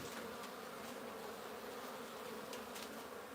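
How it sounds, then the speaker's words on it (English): Honey bees at a wild hive make a steady, dense buzzing drone that fills the whole moment, close and continuous with no talk. "There's guard bees to deal with the intruders. The work bees, they deal with the work."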